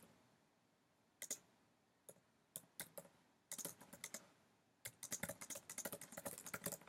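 Someone typing on a computer keyboard in short bursts, first a few isolated clicks, then quicker runs of keystrokes building to rapid continuous typing, close and crisp in an otherwise quiet room.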